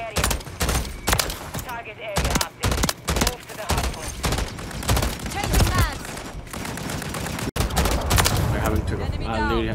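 Rapid bursts of FAMAS assault rifle fire in Modern Warfare III, sharp repeated cracks in clusters with brief gaps, loud and close over game effects, with a player talking between shots.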